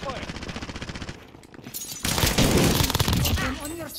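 Automatic gunfire from a Warzone battle, rapid bursts running steadily through the clip and swelling louder in the second half, mixed with game noise and a voice talking over it.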